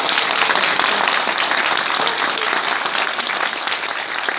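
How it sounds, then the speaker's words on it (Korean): An audience claps after an acceptance speech by a party candidate, dense sustained applause filling the hall at full strength throughout, close and loud. "네, 다시 한번 큰 박수 부탁드리겠습니다"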